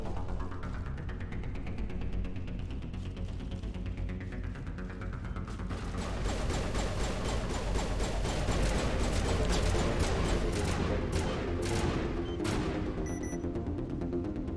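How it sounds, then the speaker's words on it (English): Gunfire in Mass Effect Legendary Edition, starting with a low rumbling hum and a rising whine, then building into dense, rapid bursts of shots that run on continuously to the end. "What are you guys shooting at?"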